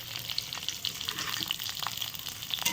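Onions and green chillies frying in oil in a wok, a constant close crackling sizzle with small pops and light stirring scrapes, no voices.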